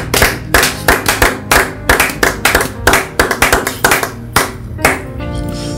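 Church congregation clapping in a loud, rhythmic, uneven rush of many hands, close and energetic before fading into a ringing tone at the end.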